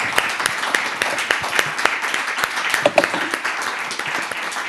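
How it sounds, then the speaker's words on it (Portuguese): A seated audience at a Portuguese cinema anniversary panel claps steadily for several seconds, a dense spatter of hand claps with a few sharper individual slaps standing out near the end. "Vamos dar uma salva de palmas a este magnífico painel."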